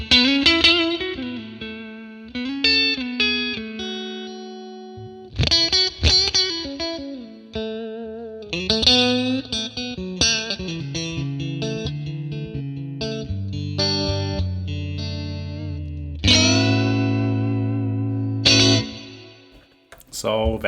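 Electric guitar through a Fender 1957 Tweed Bassman amp model with warm, slightly driven tone and spacious reverb, strummed chords and single-note phrases ringing out with lingering tails.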